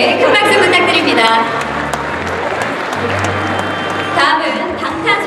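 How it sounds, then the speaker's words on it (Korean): A crowd applauds steadily at the 2015 Cable TV Broadcasting Awards, a dense patter of clapping throughout, while a voice speaks in Korean over it through an amplified system. "큰 박수 부탁드립니다"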